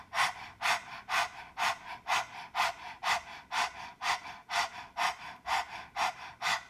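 Rapid, forceful panting through the mouth during a Kundalini yoga posture, about fourteen sharp, evenly spaced breaths, close and loud with no talking.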